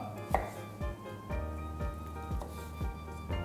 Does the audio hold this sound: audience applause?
no